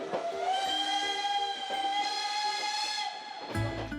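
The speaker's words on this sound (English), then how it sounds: "a 90-minute journey in the open cars of a 19th century steam train chugging slowly up the Ardèche River Valley" A 19th century steam train in the Ardèche River Valley sounds a long, loud, sustained whistle with rich harmonic tones, broken by brief pulsing breaks, ending abruptly with a low rumble.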